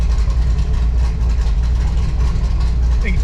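Corvette C6 Z06 LS7 engine idling close by, a loud, steady low rumble with a slightly uneven lope, continuous through the short stretch.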